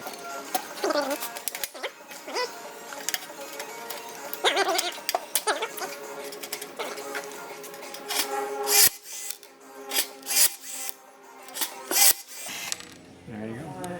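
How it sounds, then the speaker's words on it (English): A rivet gun sets rivets joining an aircraft rib to the forward spar; after a stretch of quieter metallic shop noise, several sharp, loud rivet bursts come close together near the end. "we can rivet the forward, the rib to the forward spar"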